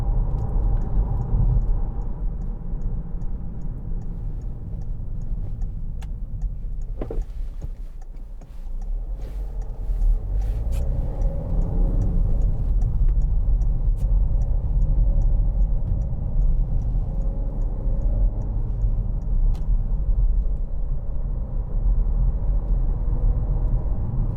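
A 2015 Peugeot 3008 1.6 BlueHDi Allure diesel drives along with a steady low road and engine rumble heard from inside the cabin, and a faint regular ticking runs through it.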